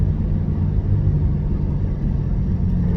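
A C8 Corvette on the Spring Mountain race track gives a steady, loud, low engine rumble that stays constant throughout, with no voices.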